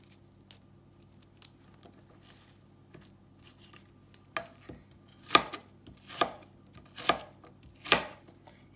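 A knife cuts onions into big chunks on a board for ratatouille, a few scattered light taps giving way to five loud, evenly spaced chops, close up and without talk.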